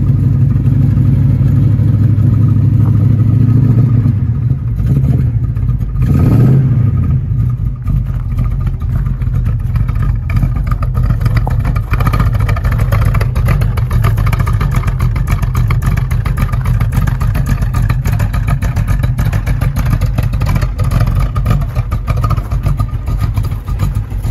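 A 1969 Ford Mustang Mach 1 engine runs loud and close, a deep continuous rumble with a brief revving swell early on, then settling into a steady, throbbing idle.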